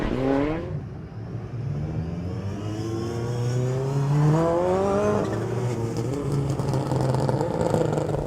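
British Rallycross Championship race cars, including a Subaru, race on a mixed circuit with a loose surface. Engines rev and climb through the gears close by, with rising and falling pitch as the cars pass, and no voice is heard.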